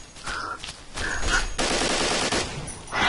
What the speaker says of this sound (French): je prends le lance-roquette